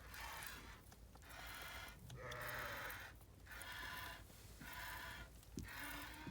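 Several sheep bleat repeatedly in drawn-out calls, fairly close, with short pauses between each cry and faint farmyard background.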